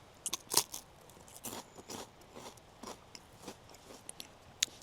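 Wholemeal crisp bread from a Czech military 24-hour ration being bitten and crunched, a few sharp close crackling bites followed by softer irregular chewing crunches, no talking.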